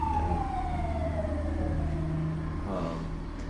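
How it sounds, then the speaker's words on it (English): An emergency vehicle siren sounds faint and distant outdoors, a slow wavering tone drifting over low traffic rumble with no talk. "There's a siren going on."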